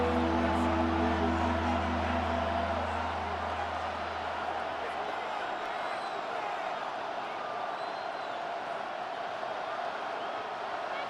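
Simulated stadium crowd roar from a Madden NFL football game on PS5, Dolphins versus Jets late in the fourth quarter, a loud steady wash of cheering that runs the whole time, with a low horn-like tone fading out early.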